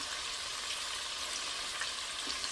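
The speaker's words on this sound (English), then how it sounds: "Can you hear that sizzle?" Potatoes crackle and sizzle in a hot frying pan, a steady close hiss with scattered pops and no talking.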